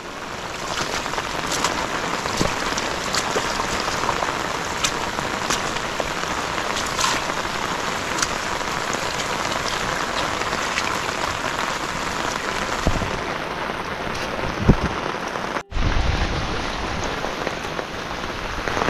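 Heavy rain pours down on a bitter gourd farm during a storm that brought flooding, a dense, steady drumming patter that fills the air, with a brief sharp break near the end.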